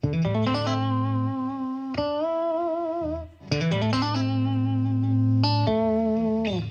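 Distorted electric guitar chords played through two amplifiers at once ring out loud and sustained, with a short gap midway before strumming resumes, thick and slightly chorused in tone.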